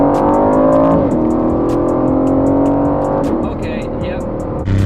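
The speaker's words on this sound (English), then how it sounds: "join me in the 2019 Vantage. 4-liter twin turbo V8." A 2019 Aston Martin Vantage with a 4-liter twin-turbo V8 drives with a loud, sustained engine drone that shifts in pitch as it accelerates, under regular ticking sounds and a voice inside the cabin.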